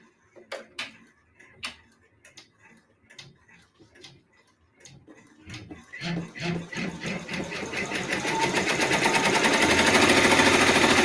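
Multi-needle embroidery machine stitching a holiday mug rug, starting with scattered clicks and taps, then building into a steady, rapid mechanical ticking and whirring that grows louder and denser toward the end; brief talk is heard early on.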